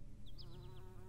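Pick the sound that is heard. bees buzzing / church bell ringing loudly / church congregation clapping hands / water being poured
bees buzzing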